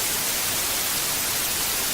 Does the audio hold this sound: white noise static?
yes